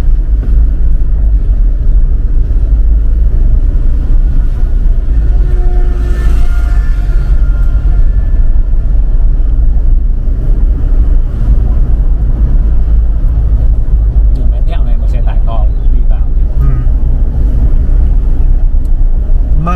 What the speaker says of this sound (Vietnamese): gặp một chiếc xe to như thế kia là bắt buộc chúng ta phải dừng lại thôi